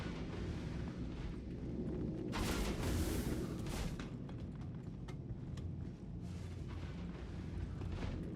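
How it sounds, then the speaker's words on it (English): Heavy booming gun-turret fire in a video game, one loud blast-like burst standing out over a continuous low, rumbling wash of battle noise, with further thuds following. "I think it's just a gun turret."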